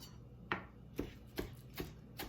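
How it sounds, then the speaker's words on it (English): A knife chops leaves off a stem on a cutting board in five sharp, evenly spaced strokes, close and quiet, with no talking. "So I'm gonna start off by chopping it like this, off the stem."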